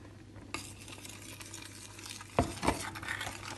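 Flour stirred into boiling milk and butter in a pot gives a steady low hiss broken by a couple of sharp scraping clatters of a spoon against the pot, close up.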